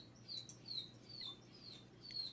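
Birds chirping in the background, with several faint, thin high tweets repeating at irregular intervals over a low, quiet ambient hum.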